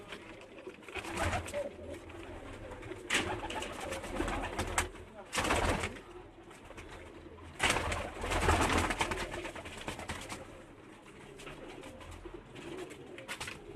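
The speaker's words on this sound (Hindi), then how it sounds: "ओरिजिनल कबूतर हैं ये उनके।" Pigeons kept by a pigeon fancier in Lahore cooing in repeated soft bursts, with rustling and fluttering noises between calls and some voices talking nearby.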